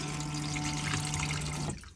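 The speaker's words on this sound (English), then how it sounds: "Push down on this button here to get the flush fluid to pump around" The flush pump of an Autosleeper motorhome cassette toilet circulates flush fluid with a steady, close humming whir and a rush of water, then cuts off abruptly just before the end.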